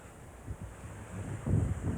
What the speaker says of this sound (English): Can see the wind blowing in my hair, blowing my clothes.